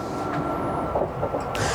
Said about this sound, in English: The sounds, everything says I am on a train.